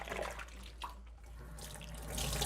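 Hands being washed in a kitchen sink filled with soapy water, with close splashing and running water that swells and fades in short surges.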